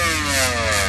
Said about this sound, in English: Here we go, Motorcycle Pro 2.